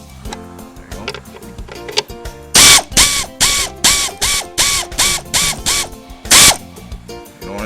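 Power tool tightening screws on the plastic fuel pump plate of a Ford Crown Victoria, heard as a rapid series of short, loud, close buzzing drill bursts, about a dozen in quick rhythm, with faint ratcheting clicks between them.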